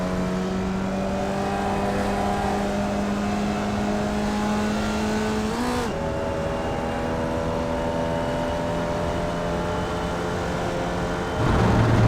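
A Formula Vee race car engine in the iRacing sim at Lime Rock Park holds a steady, loud buzzing drone with harmonic overtones. Its pitch dips briefly around the midpoint, then it settles and rises again near the end, with no voices.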